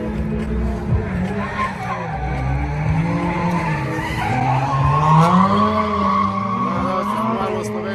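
Drift cars at a competition on a drift track in Slovenia slide with loud tire squeal and skidding over rising and falling engine revs, close and continuous, with a voice faintly underneath.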